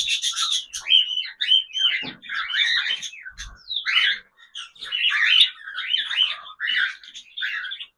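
Caged cockatiels of grey, lutino and black colouring calling nearby, a stream of loud, raspy chirps and warbling whistles in quick overlapping phrases with brief pauses.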